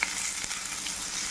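Drumstick leaves and onions sautéing in a pan produce a dense, even hiss of frying at close range, with no voices.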